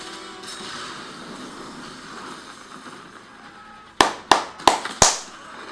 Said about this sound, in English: now we have the mandatory flamethrower explosion moment